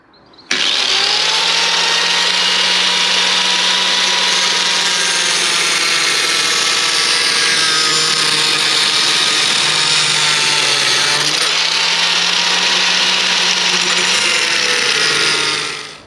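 A power tool hacking a long slot out of a wooden slab runs loud and close without a break for about fifteen seconds, holding a steady whining tone that shifts slightly as it works.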